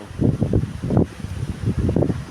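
Strong wind buffets the microphone during a storm with hail and heavy rain, beating roses in a garden, in loud irregular gusts that roar in continuous waves without a break.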